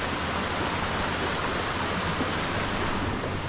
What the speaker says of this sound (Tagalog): tabing ilog.